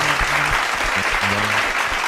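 A crowd at an Indonesian church gathering breaks into a dense burst of applause, steady and fairly close for about two seconds, with faint voices mixed underneath.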